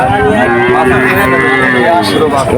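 A calf moos in a drawn-out, close, loud call at a busy cattle market in Betaga, with voices and market bustle around it.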